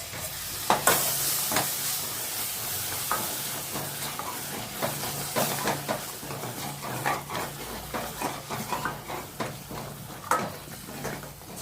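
Vegetable masala gravy cooking in a pan after curd is stirred in, with steady sizzling and steamy hiss broken by repeated spoon scrapes and stirring clatter, close and moderately loud with no talking.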